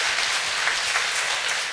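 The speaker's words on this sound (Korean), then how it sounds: "우리 황병남 선생님 다시 한번 뜨겁게 우리 박수로 축복합니다" A church congregation bursts into warm applause, a dense, steady patter of many hands clapping together for a short stretch.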